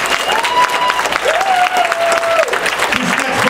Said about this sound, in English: Start clapping your hands to me right now.